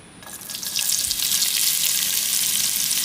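Finely sliced large onions fry in a pan for chicken curry, a hissing sizzle that swells in after a quiet start and then holds loud and steady.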